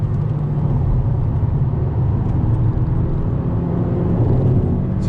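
A 2019 Honda Civic Si sports car slowing under braking while downshifting, a steady loud engine drone and road rumble heard from inside the cabin, continuous with no talking.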